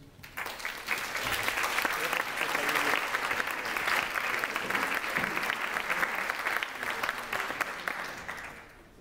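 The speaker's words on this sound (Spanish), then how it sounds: "Demos un fuerte aplauso." An audience at a university lecture applauding an invited speaker, a full wash of clapping that swells quickly, holds steady for several seconds, then fades away.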